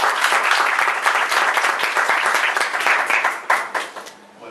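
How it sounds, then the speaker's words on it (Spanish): An audience claps loudly for a speaker at a talk on emotions and decision-making, a dense wash of applause that holds strong and then thins and fades toward the end. "Le damos un fuerte aplauso"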